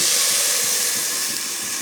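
Chopped spinach boiling in a covered pot gives a loud, steady steamy hiss, close and continuous, with no voices.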